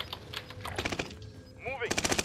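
Rapid automatic gunfire bursts in Call of Duty Warzone, with a steady machine-gun rattle near the end and shouted voices over the game sounds.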